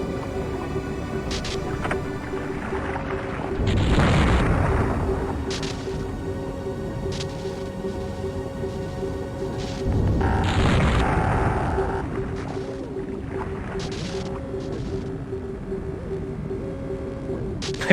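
Radioactive objects shot in a video game give two muffled booming explosions a few seconds apart, each swelling and fading over a steady droning hum.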